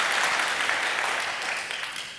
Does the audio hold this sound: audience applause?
yes